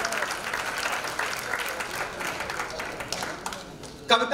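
An audience at a Hindi comedic poetry gathering claps steadily for the poet Nirmala, a sustained, moderately loud round of applause that swells again near the end.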